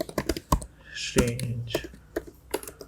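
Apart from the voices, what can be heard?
typing on a computer keyboard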